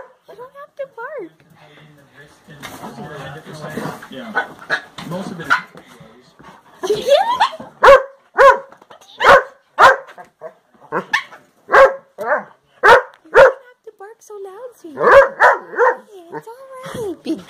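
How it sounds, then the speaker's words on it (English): A dog barks repeatedly at close range in sharp, evenly spaced bursts, mixed with yips and whimpers, while a person talks between and over the barks. "You don't have to bark."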